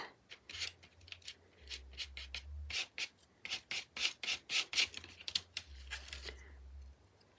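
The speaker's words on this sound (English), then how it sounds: "I got too diligent with the scraping." Repeated scraping strokes across a glossy card surface, a quick run of dry rasping scrapes in bursts, close and fairly quiet, with a low hum underneath at times.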